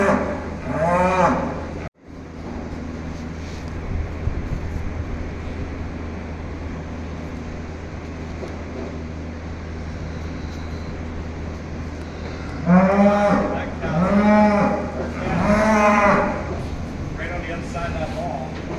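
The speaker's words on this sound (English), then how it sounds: "This cow keeps bawling and hollering and going on." A dairy cow that has just calved, fresh with her fourth calf, bawls in loud repeated moos, one early and a cluster of calls later, with people talking in between.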